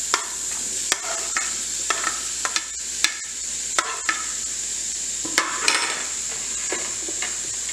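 Sugar and chopped apple sizzle steadily in a kadai, stirred with a spoon that gives scattered scraping clicks over a constant frying hiss, close and moderately loud with no talking.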